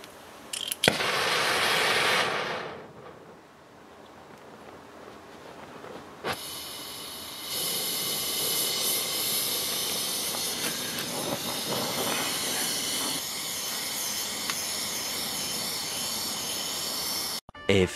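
A blowtorch heats a seized screw on a Citroën Traction's suspension arm, a loud steady roaring hiss that cuts in and out, with a sharp burst early on and a long sustained flame afterward, no talking.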